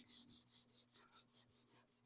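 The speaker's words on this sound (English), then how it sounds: "I'm going to sand that out with the 400." Sandpaper of 400 grit rubs back and forth over car paint on a classic car in eight even, rhythmic strokes, soft and close with no other sound.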